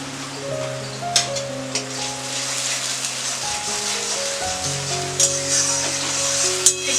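Spice paste fries in hot oil in a pan, giving a steady, close sizzle and crackle with occasional sharper pops over sustained background music.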